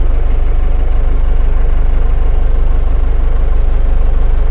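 A cold Scout TU-404S minitractor engine runs at a steady idle, loud and close, with an even low rhythmic chugging throughout and no voices.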